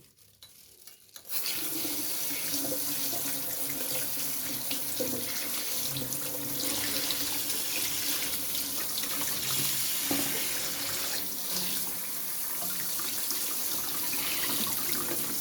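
Hairy gourd, also called winter melon, rinsed under a steady stream of running tap water, the faucet pouring continuously and fairly loud after a brief quiet start, with splashing as the vegetable is washed in the sink.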